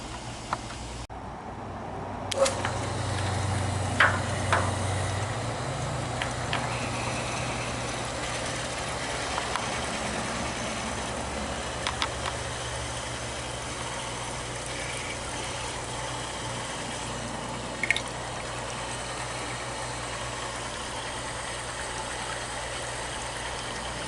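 A Maxant honey extractor's motor hums steadily as the drum spins, a low continuous drone with occasional faint clicks and knocks over it.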